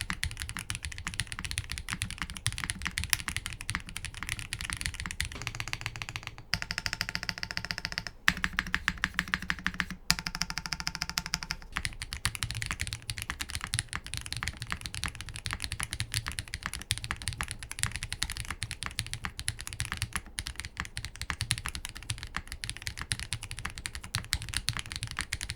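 Rapid, continuous clacking of an Iqunix Tilly 60 mechanical keyboard with plate foam, keys striking in quick uneven bursts with a crisp, unmuted, slightly hollow sound, close and steady throughout.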